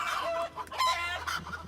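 A chicken clucking sound effect plays during a TV reality-show quiz segment, a quick burst of loud, close squawks and clucks over a low hum.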